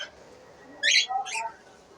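Pet birds in an aviary give two short, sharp high-pitched calls in quick succession over faint background hiss, fairly close and moderately loud.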